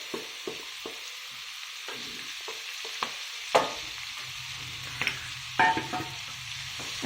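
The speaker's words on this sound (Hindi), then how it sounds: "अब हम डालने वाले हैं बीटरूट की सब्जी।" Beetroot sabji frying in a pan as a spoon stirs it, with soft sizzling broken by repeated scraping knocks and clinks from the stirring, close and without voices.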